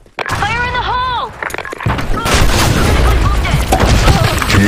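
In a Counter-Strike match, a shouted voice callout is followed by a loud, close blast that rumbles on with crackling debris and further gunfire-like bursts throughout.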